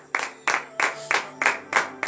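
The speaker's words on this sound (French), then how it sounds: "Il mérite encore d'être applaudi. Donnez encore de votre acclamation à l'Éternel." A congregation at a morning prayer service in Benin claps in steady unison, about seven sharp, evenly spaced claps ringing out together with no voices over them.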